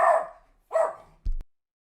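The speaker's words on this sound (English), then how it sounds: "Yeah, somebody knocked on the door, so my dog started barking." A dog gives two short, loud barks close by, one after the other, followed by a brief thump, likely a door knock, at home during a gaming stream.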